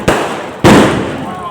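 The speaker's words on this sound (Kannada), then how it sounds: "ಟ್ರಯಾಂಗಲ್ ಶೇಪ್ ಪಟಾಕಿ ಹೊಸದಾಗಿ ಬಂದಿರೋದು ಅನ್ಸುತ್ತೆ ಈ ವರ್ಷ" Two loud firecracker bursts at a Diwali village fair, each a sharp crack trailing into a short, fading roar, the second half a second after the first.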